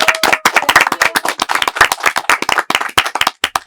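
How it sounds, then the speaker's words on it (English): Students at a secondary school quiz competition clap loudly and unevenly, a ragged burst of many hands close by that continues throughout and thins toward the end. "Okay, give me a big clapping."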